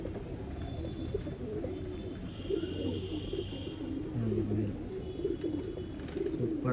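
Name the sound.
pigeons cooing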